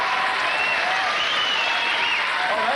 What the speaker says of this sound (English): First round of applause, and it's on a bollock gag.